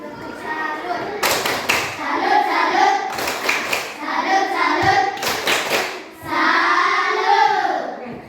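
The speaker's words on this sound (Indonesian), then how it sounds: "Kita berikan tepuk salut untuk kelompok 1 yang sudah memberikan presentasinya yang pertama" Audience clapping for a student group after its first classroom presentation, bursts of hand claps mixed with lively talk and children's voices, loud and close with a few thumps.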